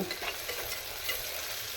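Food sizzles steadily in a hot pan with faint stirring scrapes while wheat upma is being made, a continuous close frying hiss with no voices.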